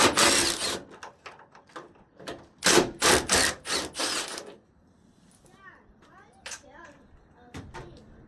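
Door hinge screws are worked loose on a 1996 Ford F-150 with a hand tool, giving short mechanical clicking and ratcheting bursts. Someone talks over the first half, and the second half holds quieter, scattered tool sounds.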